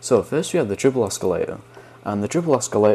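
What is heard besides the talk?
No everyday noise stands out behind the speech.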